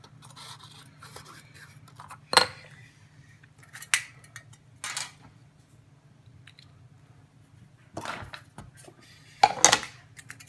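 Aluminium Coke can being cut with scissors while making a compact camp alcohol burner; a few short crisp snips and crunches, close and separated by pauses, over a low steady hum.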